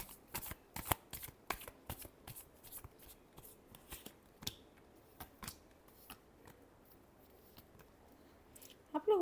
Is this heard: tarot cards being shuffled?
yes